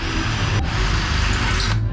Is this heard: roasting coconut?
no